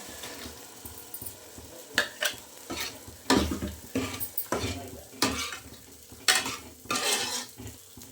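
A spatula stirs chicken in thick green masala curry in a pan, scraping and clattering in irregular bursts over a low, steady sizzle.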